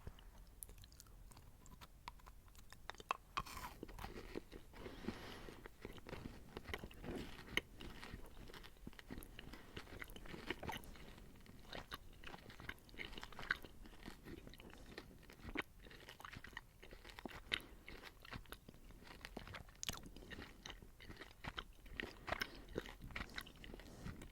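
Someone chews peach-flavoured gourmet Danish licorice candy close to the mic, with soft, continuous, sticky chewing and faint crunchy bites at an uneven rhythm throughout the quiet stretch.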